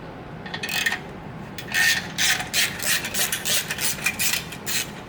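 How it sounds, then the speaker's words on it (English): A ratchet working an exhaust clamp loose on a 2017-or-later Harley-Davidson Touring Milwaukee-Eight motorcycle, giving bursts of quick clicking and rasping strokes at close range, fairly quiet, with no talking. "Just open the clamp again completely."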